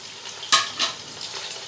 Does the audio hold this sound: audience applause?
no